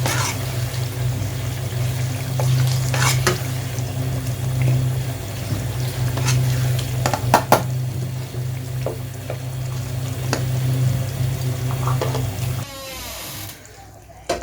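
Kaleji, goat liver, fries with green chillies in a pan as it is stirred, making a steady hissing sizzle with light spatula taps and scrapes before it cuts off sharply near the end.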